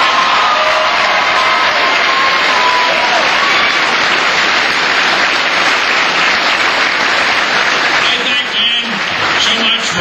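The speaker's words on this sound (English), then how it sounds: "Give a nice round of applause" Sustained crowd applause fills a rally at Michigan State University held for John Kerry, loud and continuous throughout with a dense wash of clapping and a few faint voices underneath.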